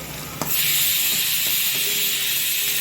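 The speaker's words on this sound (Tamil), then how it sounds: "cooker whistle வந்துக்கிட்டுருக்கு" A pressure cooker whistles: a loud, steady high-pitched hiss of escaping steam bursts in after a brief quieter moment and holds continuously to the end.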